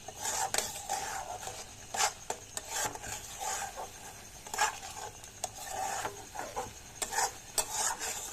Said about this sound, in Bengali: আর একটু নাড়বো, এইভাবে